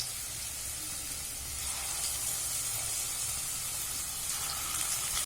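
Potato pakoras, thinly sliced potato fritters, frying in hot oil, giving a steady, dense sizzle with a crackling hiss that holds level and close throughout, no voices.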